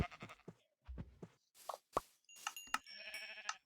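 Sheep bleating in the Minecraft video game: several short, bright bleats mixed with game clicks, block pops and item pickup tones, fairly close with no talking.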